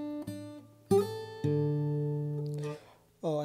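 Acoustic fingerstyle guitar, plucked open fourth string with a fretted first string: a few clear, close notes ringing out over one another, ending with a short fresh pluck.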